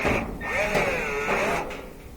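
A 5/16 nut driver zips a screw out of the panel of a roughly 24-year-old gas dryer, giving a steady whirring, rising-and-falling motor whine that runs for about a second and a half, close and fairly loud.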